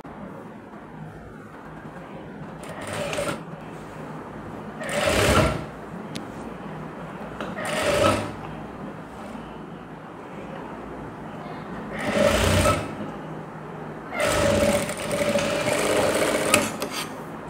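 Electric sewing machine stitching a blouse sleeve on, running in several loud whirring bursts of one to two seconds separated by pauses, with someone briefly speaking between runs.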